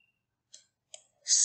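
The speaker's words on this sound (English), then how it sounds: "Now double click the knob." Two crisp computer mouse clicks about 0.4 s apart, quick and close, followed by a louder brief burst of noise at the end.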